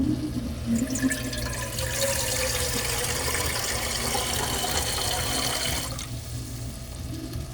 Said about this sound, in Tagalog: At sasabawan na po natin.